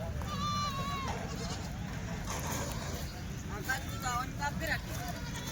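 Rajasthani goat kids at a livestock market bleating in short, wavering cries, several calls spread across the scene over constant crowd chatter and people talking nearby.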